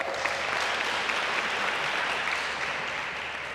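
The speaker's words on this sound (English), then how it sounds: "so let's give them a round of applause." An indoor audience at a women's sports awards ceremony breaks into steady, loud applause that holds at an even level for several seconds with no speech over it.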